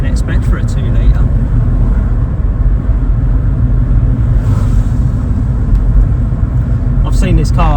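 Steady low rumble of a 2-litre car engine while driving, loud and constant inside the cabin, with someone talking over it.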